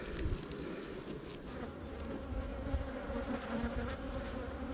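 Calm honeybees hum at an open hive during a nectar dearth, a dense continuous buzzing swarm close by, steady and alone with no voices.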